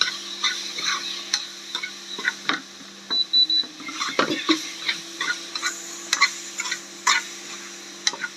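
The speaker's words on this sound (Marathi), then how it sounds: "आणि हे आपलं शिजवलेलं सोयाबीन टाकायचं. छान मिक्स करून घ्यायचं." Cooked soybeans stirred in a pan with a spoon, repeated scraping and clinking strokes in an uneven rhythm, close and fairly loud, over a faint steady hum.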